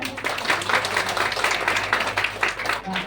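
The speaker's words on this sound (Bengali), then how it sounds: "একটা হাততালি হয়ে যাক।" Applause from a small group in a yoga class, a short run of close, uneven clapping with a voice talking over it.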